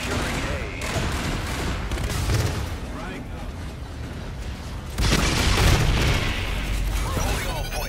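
Gunfire and explosive booms from a competitive shooter game, with a dense, loud mix of shots continuing throughout and a heavier burst of blasts in the second half, while players talk over it.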